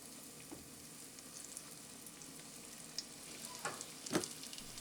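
Mild chicken strips fry in hot oil with a soft, steady sizzle, faint and close, with a few small pops and crackles toward the end.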